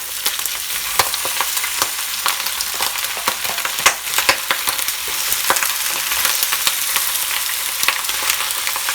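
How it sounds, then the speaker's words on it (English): Pork and garlic frying in a pan for Hakka-style red pork, a steady close sizzle with scattered sharp crackles and pops and occasional stirring scrapes, no talk. "Now I'm adding the pork."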